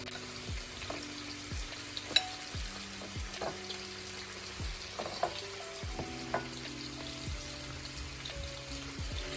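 Teriyaki-sauced salmon fries in a saucepan with a steady, soft sizzle and scattered sharp pops and crackles, close by and without any talk.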